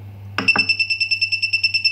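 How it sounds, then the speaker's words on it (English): An Artillery Hornet 3D printer sounds an error after a nozzle heating attempt: a short double click, then a steady stream of rapid high-pitched electronic beeps, clear and close against a low hum. "there is such a strange beep and error"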